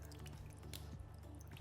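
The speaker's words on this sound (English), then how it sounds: "just push down, and you can see some of that water coming out." Water drips and trickles from pressed, drained soft food in a kitchen, a quiet run of small drops, close and alone.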